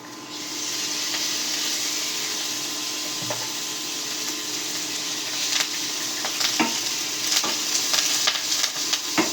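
Pork adobo fries in a pan with steady, loud sizzling and spitting oil, broken by sharp pops and splatters and the odd scrape of stirring, with no talking.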